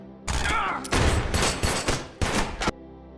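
Rapid bursts of gunfire in a film shootout crackle in several loud volleys, separated by brief pauses, with a low rumbling background between them.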